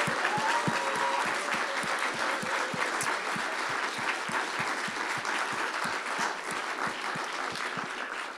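Sustained applause from a sizable crowd, steady clapping that fills the whole stretch with no talking over it.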